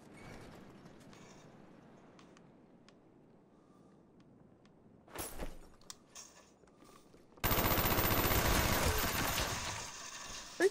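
Video game gunfire plays during an online multiplayer session, starting with faint scattered shots and clicks, a brief burst midway, then a loud sustained stretch of rapid automatic fire near the end.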